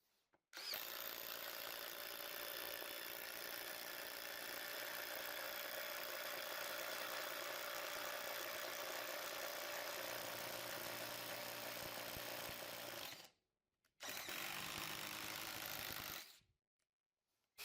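A DeWalt DCF850 cordless impact driver drilling with a bit whirs steadily at high speed for about thirteen seconds, stops briefly, then runs again in a shorter burst before cutting off.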